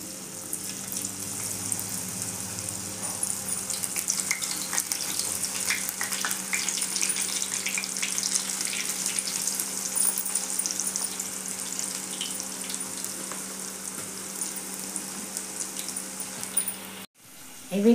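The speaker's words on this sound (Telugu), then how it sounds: "ఆయిల్ వేడైంది. కొంచెం కొంచెం తీసుకొని పకోడీలాగా వేసుకోవాలి." Onion and sweet corn pakoda batter fries in hot oil, a steady close hiss and crackle that holds for most of the stretch and then cuts off abruptly near the end.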